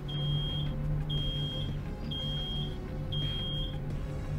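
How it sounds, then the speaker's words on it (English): An alarm in the Road 96 video game, a high electronic tone repeating about once a second in short held beeps over a low humming background. "Oh. It's an alarm!"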